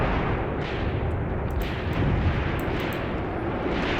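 Tank shells strike enemy tanks in a 1943 Tunisia tank warfare video game, heard as a continuous dense roar of distant explosions and artillery rumble with faint crackling bursts, no voices.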